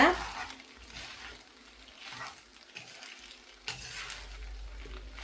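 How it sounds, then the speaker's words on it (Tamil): Chopped onions stirred into frying egg noodles in a pan, Sri Lankan style, giving a soft ongoing sizzle with scraping stir strokes, fairly quiet and steady, with a brief louder scrape near the end. "போட்டுட்டு இதை நல்லா மிக்ஸ் பண்ணிக்கிறோங்க"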